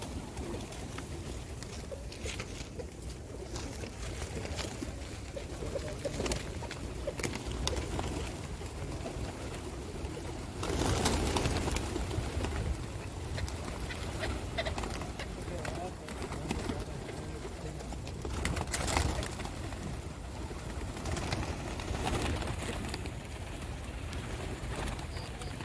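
Pigeons coo steadily while being fed grain at the Cave of Hira near Mecca, the soft calls running under a busy outdoor hum with people talking throughout.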